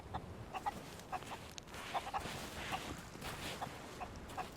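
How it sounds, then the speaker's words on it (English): Chickens cluck in short, scattered bursts in the pirate video game Sea of Thieves, several birds calling at moderate distance over low background ambience, with no talk. "Freaking chickens."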